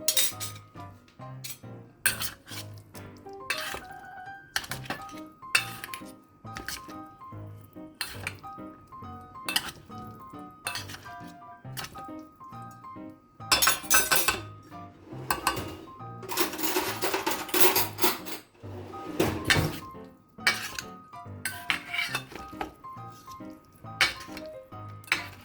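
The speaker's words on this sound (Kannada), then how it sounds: "ಇದನ್ನು ಹಾಕಿ ಮ್ಯಾಗಿದು ಹಾಕಿದ್ದನ್ನೆಲ್ಲ ಚೆನ್ನಾಗಿ ಮಿಕ್ಸ್ ಮಾಡಬೇಕು." A utensil stirs cooked Maggi noodles in a metal pan for oregano Maggi, producing a long run of irregular close clinks, scrapes and taps that grow busier and louder midway.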